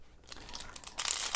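A foil wrapper on a 2018-19 Upper Deck Ice hockey card pack crinkles and tears open in short, faint close-up bursts, turning brighter and louder near the end.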